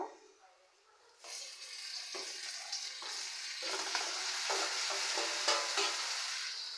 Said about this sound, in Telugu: ఇలా లైట్గా ఫ్రై అయిన తర్వాత నెక్స్ట్ టొమాటోస్ కూడా వేసేసుకున్నాము